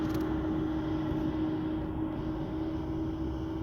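Steady low background drone of vehicles and machinery at a truck center, a constant hum with a faint tonal whine and no distinct events.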